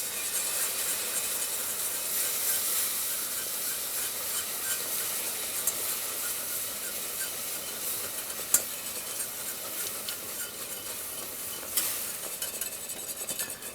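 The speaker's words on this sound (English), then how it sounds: "You want to be whisking the whole time." Beer being whisked steadily into a spicy cheese sauce in a pan, a continuous close wet stirring and sizzling hiss with a few small clinks of the whisk against the pan, no talking.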